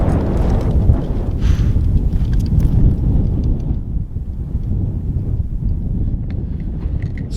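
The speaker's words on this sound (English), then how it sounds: "Where's this wind coming from, man?" Strong wind buffets the microphone outdoors near a willow-lined creek, a loud low roaring rush that surges and eases over several seconds with no voices.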